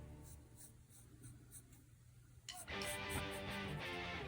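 A pencil scratches across paper while drawing lines for a jeep sketch, a faint steady stroking that turns louder and denser partway through, close and quiet with no talking.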